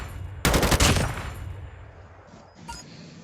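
A rapid burst of automatic gunfire in Call of Duty Mobile rattles loud and close for about a second, then fades, followed by one short crack after a pause.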